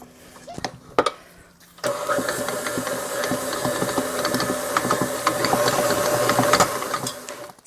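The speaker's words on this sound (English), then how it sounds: "Now I'm going to put the dough hook back in, and we're going to mix it for about 10 minutes." Stand mixer fitted with a dough hook kneads pot sticker dough, a steady mechanical motor whir with knocking and thumping that starts after a couple of quiet knocks and runs on continuously.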